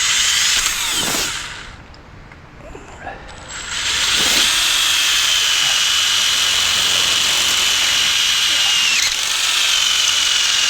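Power drill boring a hole for 3/8 eye bolts on a chicken tractor build, a loud high whine that dips briefly, then holds steady for several seconds, close to the microphone.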